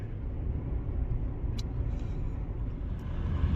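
A Lexus IS350 engine with a cold air intake rumbles steadily from inside the cabin, a deep low drone with road noise and no talking.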